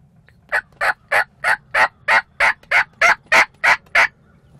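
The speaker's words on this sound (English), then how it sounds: "There's still 3 or 4 turkeys up in the tree" Wild turkey gobbling in the spring woods, a loud, close run of about twelve evenly spaced calls in steady rhythm, with no talk.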